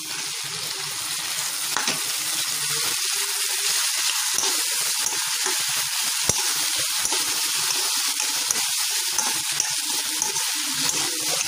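Chopped tomato hits onions frying in a pan for restaurant-style dum aloo, giving a loud, steady sizzle with occasional stirring scrapes throughout, no voices.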